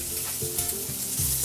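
Chicken pieces fry and sizzle steadily in a dented frying pan, a close, continuous crackle with small pops and scrapes throughout.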